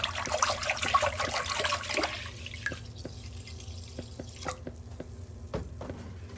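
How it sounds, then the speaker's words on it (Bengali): About a litre of milk poured into a pan holding a little water for making kheer: a gurgling, splashing pour up front, then fading into scattered drips and faint trickling, close by. "এবার 1 লিটারের মতো দুধ আমি ঢেলে"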